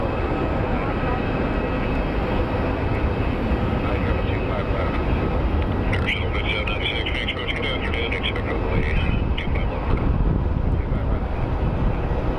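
A Southwest airliner from Albuquerque takes off at Phoenix Sky Harbor International Airport, its engines a steady, broad, distant roar throughout, with people talking nearby.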